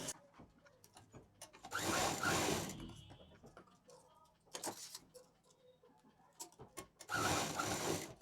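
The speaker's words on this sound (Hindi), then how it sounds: "यहाँ बेल्ट के पास से जितने में आप मशीन चला सकते हैं मशीन यहाँ चला दीजिए" A sewing machine runs in two loud bursts as it stitches along the belt of a patchwork bag, with quieter handling and rustling of fabric in between.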